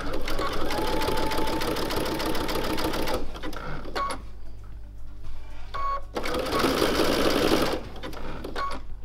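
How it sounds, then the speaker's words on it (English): A sewing machine whirs through a tiny zigzag stitch along the edge of a mini quilt's binding in two long, close bursts with a pause between them, while someone talks over it. "Rather than straight stitching, I'm using a tiny zigzag stitch. And I'm stitching just on the edge."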